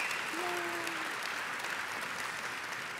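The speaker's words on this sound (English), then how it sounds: "Please join me again in another round of applause for Matt Donnelly and SIGGRAPH 2019 keynote speaker, Victoria Alonso." A large conference audience applauds keynote speakers in a sustained, even round of clapping that fills the hall, with a brief faint tone near the start.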